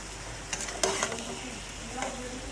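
Mixed vegetables sauté in a pan with a soft, continuous sizzle, broken by a few brief utensil scrapes and knocks as they are stirred, close and fairly quiet.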